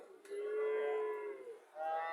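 A Sahiwal calf or cow on a dairy farm gives a long, drawn-out moo that rises and holds, followed by a second shorter call starting near the end, close and clear with no talk over it.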